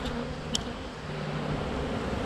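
Honey bees swarm around an open hive in late December, their dense, steady buzzing close and continuous, with a few individual bees zipping past nearby.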